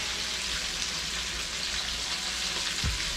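Pompano fillets frying in a hot pan give a steady, close hiss of sizzling oil, broad and unbroken across the clip, with one soft low knock near the end.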